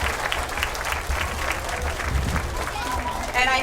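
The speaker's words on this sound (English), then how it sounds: "let's give all of our parents and family members a big round of applause." Parents and family members applaud in a school cafeteria at an elementary school performance, a moderate round of clapping with voices mixed in throughout.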